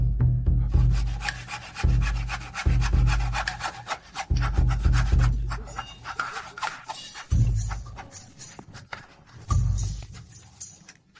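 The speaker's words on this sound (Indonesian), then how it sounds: "kita gunakan gergaji untuk memotong tengkorak dan keluarkan jaringan otak di dalamnya" Rhythmic sawing through a skull, strokes rasping in bursts with brief pauses between them, close and loud with no talking.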